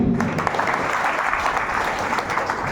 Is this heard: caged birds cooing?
no